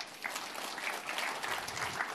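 A church congregation claps for God, a dense, steady wash of many hands applauding together at moderate loudness without a break.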